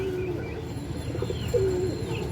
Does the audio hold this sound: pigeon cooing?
yes